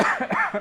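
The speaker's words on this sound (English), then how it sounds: "you might hear a light cough from me every once and again" A person gives a short burst of several close, dry coughs in quick succession, under a second long, with no talking.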